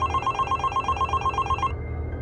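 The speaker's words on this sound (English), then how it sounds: "when the phone rang." A telephone rings in a hotel room with a rapid, trilling electronic bell, a steady pulsing ring repeated for about a second and a half before stopping, fairly loud and close.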